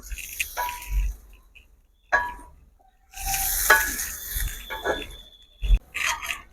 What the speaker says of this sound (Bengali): দেখো বন্ধুরা আমার এই ঝোলটা পুরো ফুটে গেছে